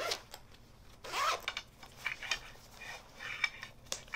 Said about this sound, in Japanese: チャックを閉めます。